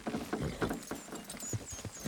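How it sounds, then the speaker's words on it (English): Horses strain to pull a structure down in Red Dead Redemption 2, their hooves clopping in an uneven, hurried rhythm with creaking and scraping, close by and moderately loud. "Horses will pull it clean down"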